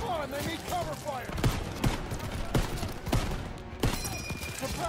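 Rapid bursts of rifle and machine-gun fire from a World War II shooter game, Call of Duty: WWII, with sharp repeated shots and echoing impacts crowding the scene and battle chatter mixed in.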